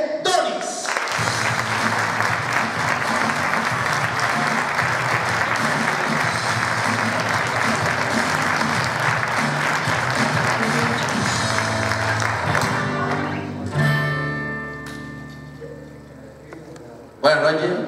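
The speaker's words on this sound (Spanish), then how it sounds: "vamos a recibir con un fuerte aplauso a José" A comedy club audience gives sustained applause as a stand-up comedian takes the stage, a loud, even wash of clapping with background music that tapers off near the end, followed by a brief burst of sound.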